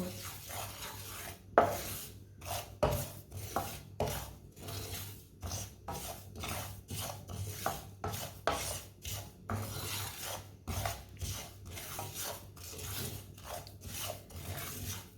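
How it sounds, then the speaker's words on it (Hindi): A spoon scrapes and rubs against a pan as onions brown, with irregular repeated strokes, close and fairly quiet, with no talking. "इसे चम्मच चलाते हुए हल्का सा ब्राउन करना दोनों चीज़ों को"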